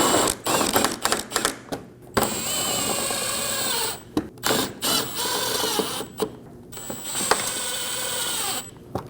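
Power drill driving screws into a 2008-2015 Scion xB front bumper cover and fender liner, loud whirring bursts broken by short pauses and ratcheting clicks, close up.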